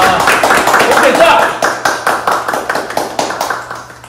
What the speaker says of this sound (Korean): 박수 한번 다시 칩시다